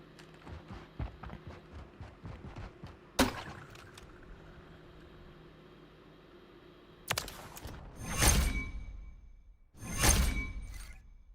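Modern Warfare III gameplay on the Derail map: quick running footsteps, then sharp gunshot bursts with loud, booming impacts rising later, no talk.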